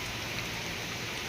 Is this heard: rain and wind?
yes